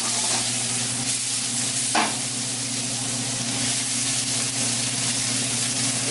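Chopped garlic and onion frying in vegetable oil in a pan, a loud, dense, continuous sizzle heard up close, with one brief scrape partway through.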